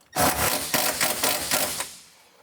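Bolt on a 2010-2015 Toyota Prius luggage rack being tightened by hand: a quick run of about six clicking ratchet strokes in steady rhythm, close and fairly loud, with no talk.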